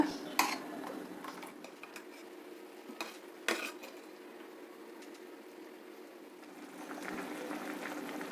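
Carrot kadhi curry simmers in a pot, a soft continuous bubbling broken by a few sharp clinks of a utensil against the pot, quiet and close, with no talk.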